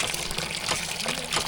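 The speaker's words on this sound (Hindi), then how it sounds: "अम्मा पानी भर रही है हमारी यहाँ पे" Water gushes steadily from a village hand pump as a woman fills a vessel, a continuous splashing rush with no clear strokes or pauses across the short stretch.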